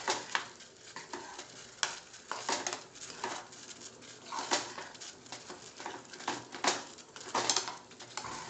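A spoon stirs thick pav bhaji mash with coriander and dry roast masala in a pan, giving soft irregular scraping and squelching strokes over a faint sizzle, fairly quiet and close, with no talking.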